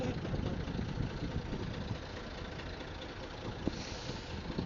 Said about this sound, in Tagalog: Papaanda rin niya na yung motor na maingay